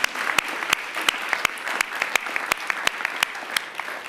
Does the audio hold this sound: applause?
yes